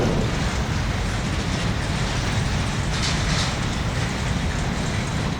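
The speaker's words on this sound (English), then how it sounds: "Number 33 makes its way around Edna Curve with a loaded train for Standard." A logging railroad's Number 33, carrying a loaded train for Standard, rumbles around Edna Curve with a loud, continuous roar of rolling cars and wheel noise, close and unbroken throughout.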